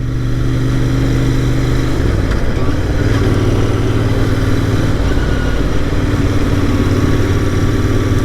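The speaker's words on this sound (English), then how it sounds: "The bike really like roars in its true essence when you just let the throttle just out." A Royal Enfield Interceptor 650 twin fitted with an aftermarket air filter runs loud and close, with a steady throbbing exhaust note that rises briefly around the two-second mark before settling back into a constant rumble.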